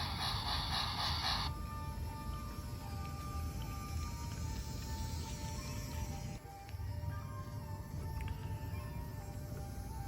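A small BRIO Mighty Red Action battery toy locomotive pulls five cars steadily with a constant mechanical whir and clatter of gears, close by, with a brief high hiss at the start.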